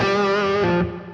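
A sustained, gritty electric guitar chord with crunchy overdrive from a Compulsive Drive pedal, played through a Gamma G25 or G50 amp, ringing steadily before a slight change and gentle decay near the end.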